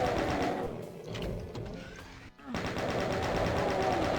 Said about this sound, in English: let's take out the chain gun to start